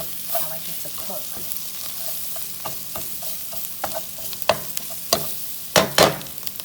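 Food cooking in Kerrygold butter in a pan, a soft, continuous sizzle broken by sharp clicks and scrapes of a utensil stirring, growing busier toward the end.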